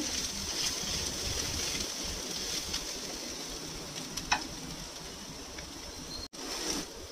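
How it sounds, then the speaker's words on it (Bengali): Mashed roasted eggplant is stirred with salt in a hot pan, giving a steady close sizzle with soft scraping, one sharp clink partway through and a brief cut-out near the end. "এবারে দেবো এটার মধ্যে সল্ট দিয়েও এটাকে একটুখানি নাড়াচাড়া করে নেব"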